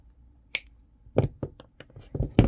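Several sharp little clicks and snips sound close up as wire is cut for wire-wrapped unakite earrings, irregularly spaced and quiet between the cuts.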